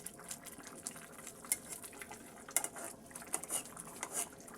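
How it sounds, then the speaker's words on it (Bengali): A spoon stirring eggplant curry with tengra fish in a cooking pot: soft scraping and clinking against the pot, with light wet patter, fairly faint and irregular, no voices. "তরকারিটা এখন আমি একটু নেড়ে দেব"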